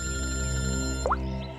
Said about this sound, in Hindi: पूर्वी का फोन है।